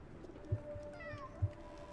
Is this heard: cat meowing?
yes